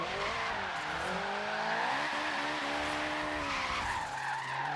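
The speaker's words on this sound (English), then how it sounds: "This is probably the best turbo flutter I have heard in this game." A drift car in Forza Horizon 3 screams near redline with squealing tires and a fluttering turbo, its loud engine tone rising and wavering steadily for the whole stretch with no talk.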